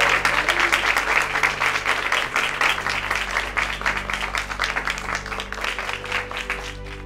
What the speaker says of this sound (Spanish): aplauso para ese muchacho